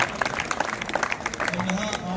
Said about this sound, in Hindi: एक बार तालियां इन बच्चों के लिए